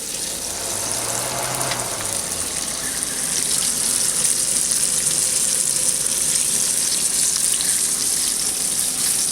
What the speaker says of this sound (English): That's just the moisture frying out of them.